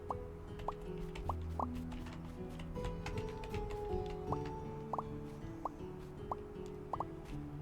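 Crops are watered in the video game Moonstone Island, a string of soft, evenly spaced droplet plops over a quiet, murmuring game background.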